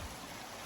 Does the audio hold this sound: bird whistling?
no